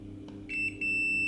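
Continuity beep from a multimeter testing the three-phase contacts of a magnetic contactor: a faint tap, then a steady high electronic tone that starts abruptly, briefly dips and resumes, held loud and close over low background hum.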